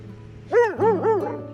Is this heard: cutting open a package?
no